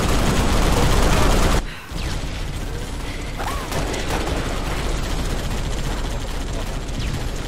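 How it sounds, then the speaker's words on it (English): Gunfire rattles in a Halo Reach Big Team Battle match, a loud burst of rapid shots that cuts off abruptly, followed by quieter mechanical clatter and scattered distant shots. "Where the hell am I getting shot from?"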